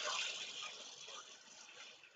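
Water pouring into a cooking pot for cream of chicken soup, a steady broadband splash and trickle that fades slightly over a couple of seconds, fairly faint and heard alone at close range.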